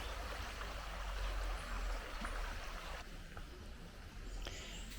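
Water of the River Fowey at Golitha Falls nature reserve rushes steadily over stones, a continuous broadband wash heard close and fairly loud, with no voices.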